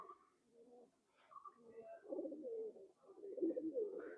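An old-breed nose-pulling pigeon coos softly in a series of low, throaty rolling calls, close by and quiet, repeating in uneven bursts with faint chirps and no talking.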